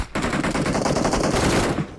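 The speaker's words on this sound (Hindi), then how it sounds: "अब दूर से भी गोली चल रही है" Rapid automatic gunfire in the battle royale game BGMI, one sustained burst of fast, evenly spaced shots lasting under two seconds, loud and close, then stopping abruptly.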